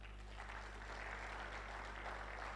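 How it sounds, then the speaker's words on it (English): Audience applause at a scientific conference, steady clapping from a crowd that fills the whole stretch at an even level, with no speech over it. "Give yourself a very big round of applause."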